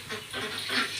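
Ducks on a small duck farm give a short burst of nasal quacking and honking over about a second, moderately close but fairly quiet.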